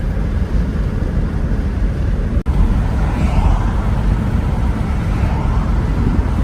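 A Mercedes 450SL R107 coupe drives along with a steady low engine and road rumble from inside the cabin, constant and fairly loud, broken by a brief click.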